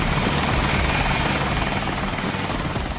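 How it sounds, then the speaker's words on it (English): A Westland Lynx military helicopter with twin Rolls-Royce engines flies overhead, its dense rotor thrum and turbine whine loud and steady throughout, with no voices. "The Lynx helicopter has often been described, certainly before the arrival of Apache, as the Ferrari of the military helicopter fleet in the UK."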